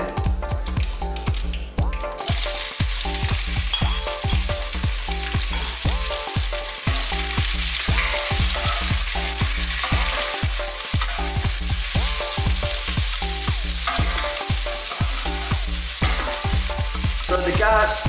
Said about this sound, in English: Okay, now we're ready to put the onions in